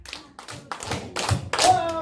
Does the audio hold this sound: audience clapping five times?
yes